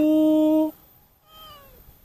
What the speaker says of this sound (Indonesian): Ada kucing, guys.